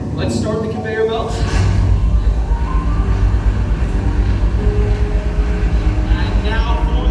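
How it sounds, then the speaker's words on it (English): A mine conveyor belt at a mine museum starts up and settles into a loud, continuous mechanical rumble with a steady churning rhythm. "Let's start the conveyor belt."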